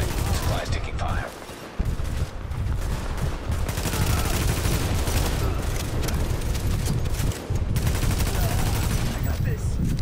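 Dense gunfire in the video game The Division as enemies shoot at a supply cache: loud, sustained bursts of automatic fire and heavy shots crowd together almost without pause, with a couple of brief dips in the volley.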